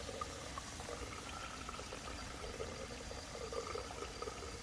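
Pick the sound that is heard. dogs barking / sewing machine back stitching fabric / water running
water running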